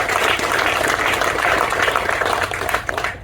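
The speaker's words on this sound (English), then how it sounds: "How about a round of applause?" Applause from an audience at a university groundbreaking ceremony for an indoor practice facility, a dense, loud clapping that holds steady before tapering off near the end.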